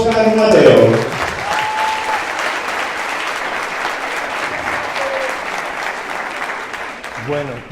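Audience applause at the Sabiens XII congress greets a speaker taking the stage: a steady, dense wash of clapping that lasts several seconds, with a voice briefly heard at the start and again as it ends.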